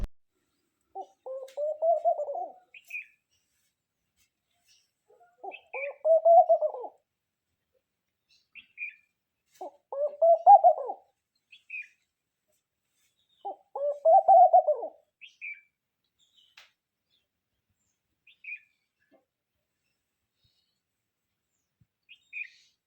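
A laughing dove sings beside a farm field, giving four soft bubbling coo phrases at steady intervals, each trailed by faint higher chirps from another small bird; no other sounds intrude.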